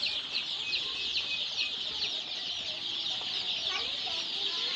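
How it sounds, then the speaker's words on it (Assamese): Local brooded chicken chicks peep continuously in a dense, high-pitched chorus, many small birds calling close together at a steady level with no talking. "এইয়া ঢেৰ পোৱালি আছে"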